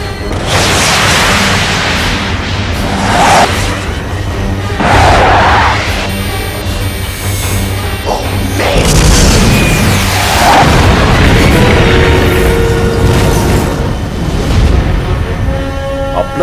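Explosions as a locked target is hit and destroyed, several heavy booms and crashes rolling one after another over a constant loud rumble, with a burst of rattling debris midway.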